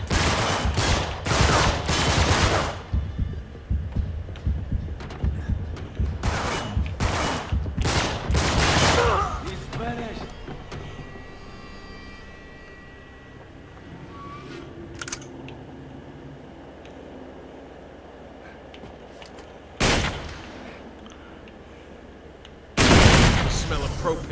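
Gunfire in the video game Uncharted 3: Drake's Deception, heard as bursts of rapid shots in the first ten seconds, then quieter game sounds and two more loud shots near the end.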